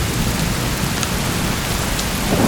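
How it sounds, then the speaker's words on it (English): Steady heavy rain pours down on a stormy campsite, a dense continuous wash of drops with faint low thunder rumbling underneath, close and loud with no voices. "we just had a lightning strike land"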